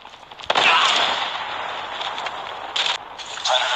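Gunfire in the mobile shooter Call of Duty Mobile: a sharp shot opens into a sustained, loud burst of rattling fire and blast noise, with a couple of further bursts near the end, close and dominant with no talk.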